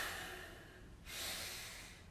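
Relaxed breathing during a demonstration of breathing mechanics, a soft inhale followed after a short pause by a longer exhale, both close and quiet, with no talking.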